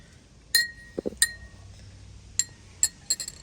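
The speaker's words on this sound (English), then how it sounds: "now stir this one until there's no more green" A spoon clinks against a glass while detergent solution is stirred, giving several sharp, bright taps spaced irregularly, close and fairly loud over a quiet room with a low hum.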